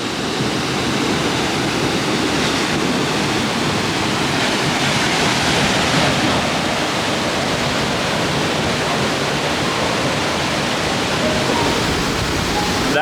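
Morialta Falls near Adelaide pours in a constant, dense roar of falling water, loud and unbroken throughout with no pauses or other sounds rising above it.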